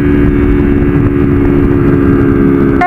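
Motorcycle fitted with a performance ECU on the original Honda CG 160 engine, cruising at high speed on a highway up a hill: a loud, steady engine drone with constant wind rush, sustained throughout.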